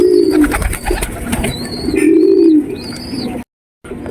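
A male pigeon coos in a loft as he drives the female toward laying eggs, with repeated rolling low coos and higher chirping calls, close and clear, ending with a brief silent gap.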